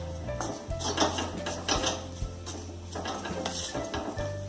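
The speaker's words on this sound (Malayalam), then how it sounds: "ഇനിയിപ്പോൾ അത് നല്ലപോലെ ഒന്ന് വറുത്തെടുക്കാം" Metal utensil scraping and clinking in a pan, stirring dry coconut with curry leaves as it roasts, with steady clattering throughout and no talking.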